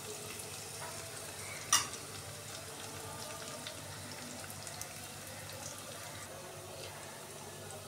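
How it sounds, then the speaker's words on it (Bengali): Chopped onions frying in a pan for a thin Bengali bata fish curry give a faint, steady sizzle and hiss, with one short metallic clink near the start and no talking. "আমার পেঁয়াজটা অনেকটা ভাজা হয়ে গিয়েছে"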